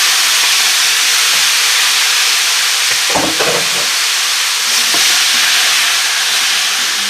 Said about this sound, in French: on va mettre notre viande pendant 2 minutes